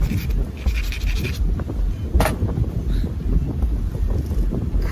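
Strong wind buffets the microphone on a hilltop, a loud continuous rumbling roar with gusty surges and no speech.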